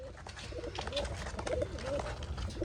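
Soft, low pigeon coos repeat every half second or so over a steady background murmur, fairly close.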